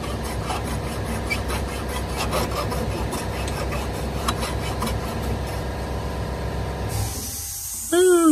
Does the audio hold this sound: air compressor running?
yes